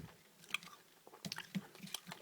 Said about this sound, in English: you're chewing off the last of the candy